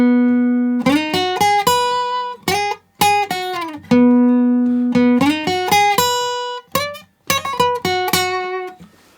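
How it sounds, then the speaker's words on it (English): Guitar, in standard tuning, plays the lead intro of Post Malone's "Pour Me A Drink": clean, bright single notes and quick slides in short melodic phrases, some held, with brief pauses between them, close and clear. "let's start off with that little lead guitar intro part, which sounds like this."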